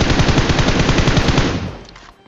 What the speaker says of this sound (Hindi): अरे नुबड़े ये ले इस गन से मार,